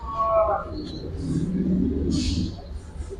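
Giribaz and coloured pigeons give low, soft coos close by, a throaty rumble running through the middle of the clip, with brief higher sounds around it.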